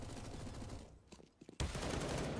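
Automatic AK rifle fire in a Counter-Strike match during an anti-eco round, loud and continuous with a brief dip before a sharp renewed burst of rapid shots.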